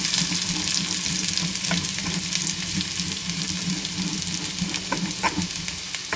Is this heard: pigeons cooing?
no